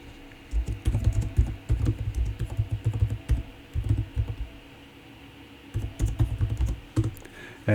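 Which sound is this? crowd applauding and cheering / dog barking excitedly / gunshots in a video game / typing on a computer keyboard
typing on a computer keyboard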